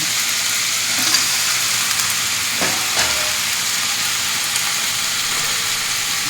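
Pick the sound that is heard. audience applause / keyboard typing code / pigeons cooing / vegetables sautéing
vegetables sautéing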